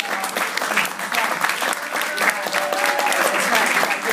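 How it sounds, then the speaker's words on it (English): An audience applauds steadily, a thick roar of clapping with a few voices faintly mixed in. "make sure you give a good round of applause to our embassy team"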